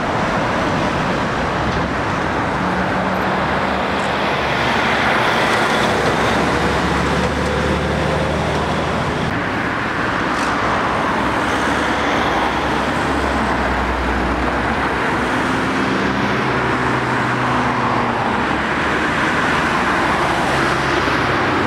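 Heavy road traffic streams along the A66 near Penrith, lorries and cars rolling past in a constant loud roar, with swelling low engine rumbles as big vehicles go by and no voices.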